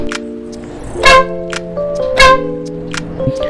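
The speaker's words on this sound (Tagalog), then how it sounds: "I actually placed a Denali horn." A loud aftermarket Denali horn on a Triumph Tiger Sport 660 motorcycle blasts in several short honks, two longer and stronger, with a faint engine rumble between them.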